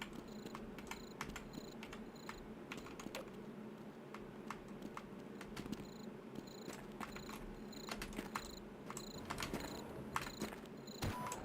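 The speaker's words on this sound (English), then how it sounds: "It is kind of refreshing to hear crickets in this game." Crickets chirp in Half-Life RTX, faint repeated high trills pulsing in regular bursts over a low hum and soft clicks, quiet and distant.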